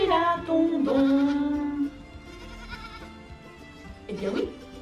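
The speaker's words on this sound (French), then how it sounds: "les moutons sont tout doux" Sheep bleat on a farm, with several drawn-out wavering calls close by, one long cry near the start and another a few seconds later, over quiet background.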